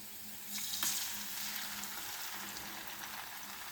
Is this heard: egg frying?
yes